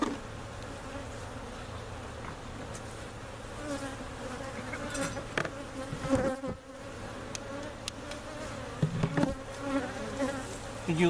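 Honey bees buzz around hives in a bee yard, a dense continuous hum with individual bees flying close past at times and faint bumps from handling nearby.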